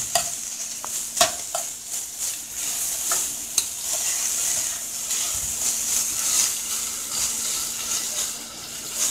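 Onion and corn kernels fry steadily in a hot pan, a constant close sizzle broken by scraping stir strokes and occasional clinks of the utensil against the pan.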